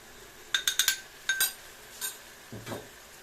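Fried onion and meat stirred with flour in a pan: a quick run of four metallic scrapes and clinks of utensil on pan, then a couple of softer scraping strokes, close and clear with no voices.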